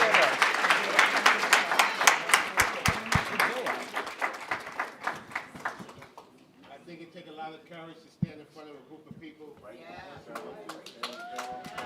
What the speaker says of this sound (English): Can we first give a round of applause to all of those young people who came up here today?